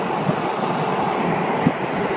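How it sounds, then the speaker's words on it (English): Strong straight-line winds on the gust front of a supercell in northwest Texas roar in a steady, loud rush of broadband noise, buffeting the microphone with occasional thumps and no voices. "We're about to get some serious straight line winds here."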